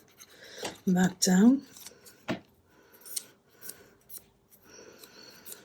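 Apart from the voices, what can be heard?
scissors trimming thick card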